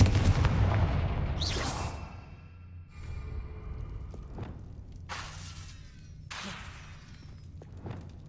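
A Confringo blasting curse is cast in Hogwarts Legacy near a broken lift, a booming magical explosion followed by several sharp crackling bursts and thuds spread over several seconds, loud and close with no voices.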